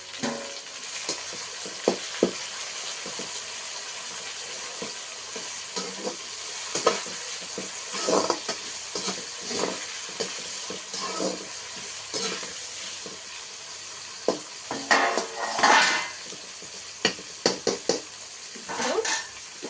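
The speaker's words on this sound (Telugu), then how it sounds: "ఇప్పుడు మనము కట్ చేసి పెట్టుకున్న టమోటా వేసేస్తాం" Chopped tomato added to golden fried onions in a pan while cooking a Telugu fish curry, a steady soft sizzle with intermittent stirring scrapes and clatter, close and fairly quiet, no talking.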